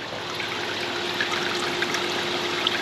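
Tap water trickling steadily into the bay of a koi pond filter, a constant close splashing and bubbling wash with no voices.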